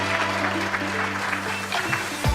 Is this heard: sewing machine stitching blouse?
no